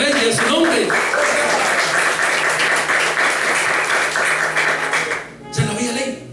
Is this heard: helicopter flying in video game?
no